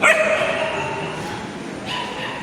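An unwell dog yips and whimpers close by, a high, strained cry that trails off over a couple of seconds.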